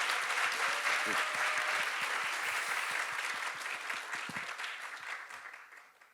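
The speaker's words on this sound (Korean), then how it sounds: "다시 한번 따뜻한 박수로 맞이해 주기 부탁드립니다." Warm audience applause welcoming a speaker at the COYAD Korea launch ceremony: a large crowd clapping steadily and densely, gradually thinning and fading toward the end, with a faint voice underneath.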